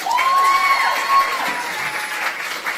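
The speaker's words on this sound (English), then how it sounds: "Give him a round of applause, please." An audience at a youth awards ceremony applauds and cheers loudly, sustained clapping with a few shouts rising over it, steady for a few seconds before easing slightly.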